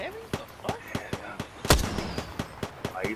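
Rapid, sharp bursts of light cannon fire in a battle royale video game, a regular run of punchy shots with one louder blast near the middle, heard under a player's voice.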